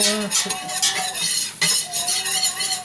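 Spoon scraping and clinking in a pot of garlic roasted potato soup, quick irregular strokes close by, with a faint simmering bubble underneath.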